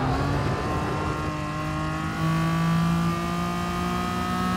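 Race car engine held at high revs while drifting in GT Sport, a steady sustained whine with tyre-and-engine tones sliding slowly in pitch, loud and close throughout with no talk.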